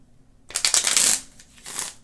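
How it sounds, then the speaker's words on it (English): Small tarot-style deck of cards being shuffled by hand, a crisp riffling flutter lasting about half a second, a brief pause, then a shorter second riffle, close and clear. "Oh, I'm going to shuffle it this way too and show you."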